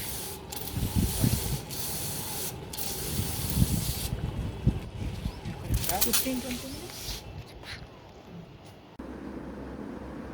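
A hand sprayer hisses in repeated bursts with brief gaps, spraying plant leaves with an organic pest solution in a terrace garden, close up, alongside rustling and handling noise.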